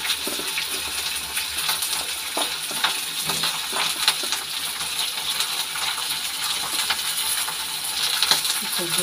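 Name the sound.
frying panch phoron spices and lentil vadi in oil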